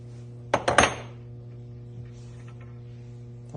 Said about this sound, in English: now I'm going to be unscrewing this fitting that leaks on your machine